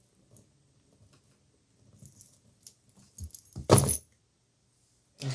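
Small metal charms on a chunky statement bracelet jangle and clink, with soft scattered taps early on building into a loud, bright rattling burst near the end, then a last brief clink, close by and without talk.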